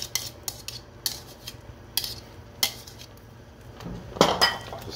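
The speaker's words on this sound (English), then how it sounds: "Just stir this in." Spoon stirring and scraping through thickening sauce in a pot of slow-cooked beef short ribs with Cabernet Sauvignon and garlic, with scattered metallic clinks and taps against the pot rim over a low background.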